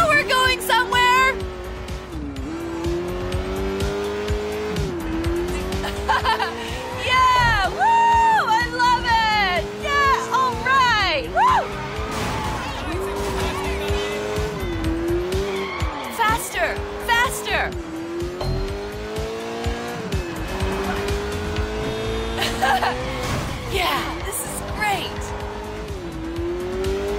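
A car races fast in Sleeping Dogs, its engine revving in rising and falling sweeps as the tires squeal and skid repeatedly through turns, loud and continuous, with voices and game sound layered over it.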